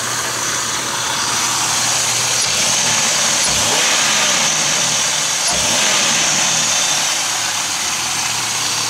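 A 1999 Oldsmobile Alero GL with 194,000 miles on its original transmission idles at a steady, broadband hum, nearby and continuous, with a couple of brief low swells partway through.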